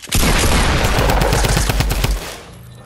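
Loud rapid automatic gunfire from the Fortnite video game, a fast burst of close shots lasting about two seconds before fading out.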